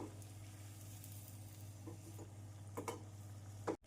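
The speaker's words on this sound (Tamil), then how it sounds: "அனைத்து அதிரசத்தையும் பொரித்து எடுத்து விடலாம்." Athirasam sweets deep-frying in oil over a medium flame, a steady low sizzle and bubbling throughout with a few brief louder crackles near the end.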